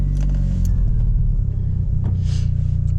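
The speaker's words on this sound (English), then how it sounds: "Let's start her up" A Mitsubishi Lancer Evolution VII engine turns over and settles into a loud, close, steady rumbling idle.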